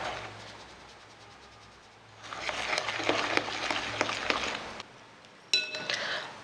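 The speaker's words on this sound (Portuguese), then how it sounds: "Então eu vou peneirando e misturando." A flour mixture for cookies being sifted through a sieve and stirred, starting with a faint hiss and then shifting to a louder, steady sandy rustle with light metallic ticks from the sieve, close and without talk.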